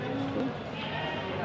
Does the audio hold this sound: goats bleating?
yes